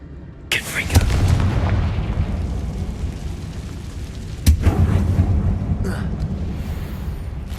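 Two Confringo blasting spells detonate in a mine in Hogwarts Legacy on PC, each a sharp crack followed by a deep rolling boom and long rumbling tail, loud and close, with game voices in the background.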